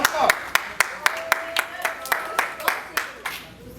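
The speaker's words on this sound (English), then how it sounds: "Give me a round of applause" Audience at a Boys and Girls Club talk clapping in a steady, fairly sparse rhythm, like a small group applauding, with voices mixed in.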